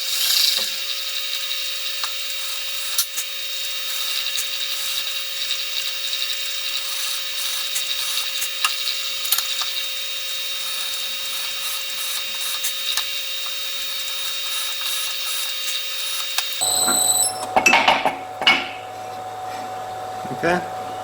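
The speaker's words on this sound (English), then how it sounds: "we're going to just lightly spot face that cast surface to give an accurate bearing for a screw or a" A cast surface on a Stuart Turner No. 8 mill engine part is lightly spot faced on a machine, giving a steady high whirring cut with a constant tone, then a sudden stop followed by clatter and handling noises.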